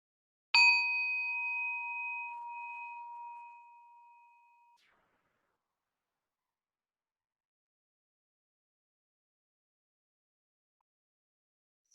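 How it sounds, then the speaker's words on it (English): A single strike of a meditation bell rings out clear and pure, its bright tone decaying slowly over about four seconds into long silence. "I will ring my bell to start us off."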